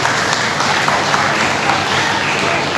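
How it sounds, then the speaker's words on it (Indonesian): School assembly audience applauding after thanks to the student council organizers, a dense, loud, steady wash of many hands clapping with crowd noise throughout. "Kita kasih aplaus lebih dulu."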